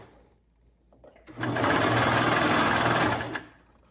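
A sewing machine runs a zigzag stitch along an elastic hem in one loud, steady whirring burst of about two seconds, close up. It starts after a moment of quiet handling and stops abruptly.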